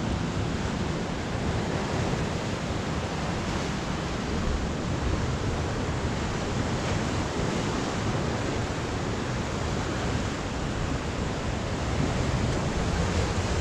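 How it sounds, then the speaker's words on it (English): Sea waves rolling onto the shore along a coastal heritage trail at Oubaai, a continuous broad rushing wash with wind buffeting the microphone, steady throughout and free of speech. "This is the closest we've been to the sea now."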